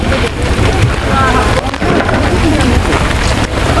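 Loud, dense downpour of heavy rain hammering close by, a continuous roaring patter with low rumbling underneath and no clear speech.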